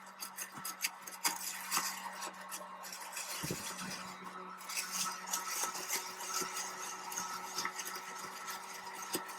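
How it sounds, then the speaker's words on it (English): Sumatra coffee beans being stirred as they roast in a popcorn popper give a steady rattling, scraping clatter over a constant motor hum, close and continuous without talk. "So I'm going to kind of stir this around here until the beans heat up."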